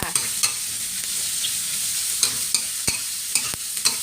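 Sliced pork belly stir-fried in a hot pan hisses with a steady sizzle, while a spatula scrapes and clacks against the metal at irregular intervals.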